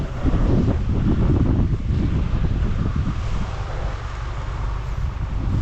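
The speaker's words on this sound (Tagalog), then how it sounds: "Lakas para naman ang hangin." Strong wind roars and buffets the microphone continuously beside a rice field, a loud rumbling gust with no voices over it.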